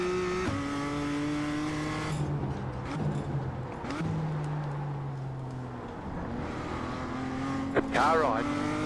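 A race car passes on the right of a BMW M2 at Tsukuba circuit, engines droning and sweeping in pitch through gear changes, with a rising whine and a brief squeal near the end.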